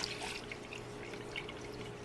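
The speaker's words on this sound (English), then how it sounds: "Add 3/4 cup of water." Water pours and trickles into a pan for a couple of seconds, a soft splashing, dribbling sound close by.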